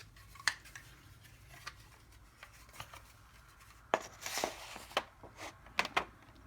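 Scissors snip through map paper to trim its edge during a craft embellishment project, several crisp, irregular cuts spaced out with a short flurry of quicker snips near the end, close and fairly quiet.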